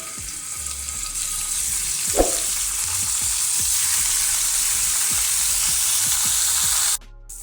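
Salted, peppered paneer frying in ghee in a pan: a loud, steady, close sizzle with faint crackles and a light clink early on, running continuously until it cuts off abruptly near the end.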